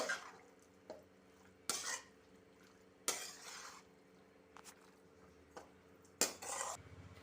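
Pasta being mixed in a pan, faint quiet scraping under a few sharp clanks of a utensil against the pan spaced a second or so apart.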